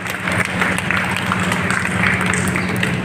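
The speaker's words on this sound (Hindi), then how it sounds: "एक बार जोरदार ताली स्वामी जी के अभिनंदन स्वागत करें" An audience at a yoga, Ayurveda and Swadeshi workers' conference gives loud, sustained applause to welcome Swami Parmarth Dev, a dense, continuous clapping crowd close by.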